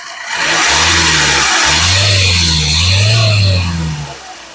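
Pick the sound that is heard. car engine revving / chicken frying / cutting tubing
car engine revving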